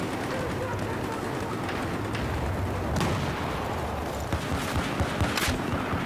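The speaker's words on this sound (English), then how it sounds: "There's a guy using the mortar again." Mortar and gunfire thump and crack in Battlefield 4 on Xbox One, distant booms over a constant dense rumble of battle, with a few sharper close reports near the end and voices faintly mixed in.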